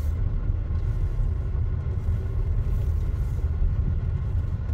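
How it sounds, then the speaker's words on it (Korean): A car creeps along a driving-school test course at about 10 km/h during a Korean class 2 ordinary licence skills exam, giving a steady, low engine rumble throughout with no talking. "속도는 10km 정도로 엑셀을 살며시 밟고요"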